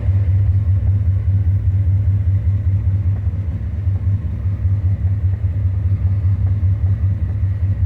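A C4 Corvette engine idles with a loud, close, steady low rumble and a fast even pulse that never changes pitch, with no talking.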